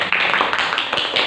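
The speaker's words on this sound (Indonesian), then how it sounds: "tepuk tangan untuk kelompok 1" Applause for a student group in a classroom, a brief burst of many hands clapping rapidly and unevenly, loud and close with no talk over it.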